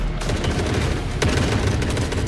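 A firing squad of soldiers shooting all around in the extraction shooter game The Forever Winter, dense rapid automatic gunfire with sharp individual cracks, loud and continuous.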